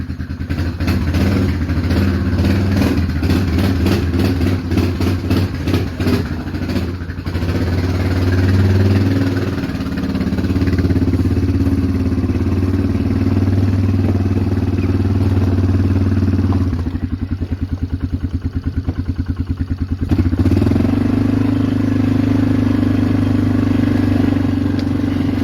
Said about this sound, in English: It's built up some compression. All at once, no choke.